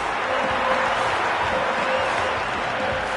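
A cricket stadium crowd at an India versus Pakistan one-day international cheers and applauds after a boundary, a dense, sustained roar of many distant voices and clapping filling the space evenly.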